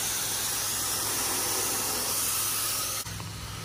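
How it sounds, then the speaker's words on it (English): Broad, steady spray noise from a pressure washer rinsing the back side of a house, loud and continuous. It drops slightly near the end. "We're using a wide variety of spray nozzles to achieve a good thorough rinsing."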